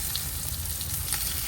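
Tofu frying in a pan sizzles in a steady, dense crackle with small bright pops, close and moderately quiet, with no voices.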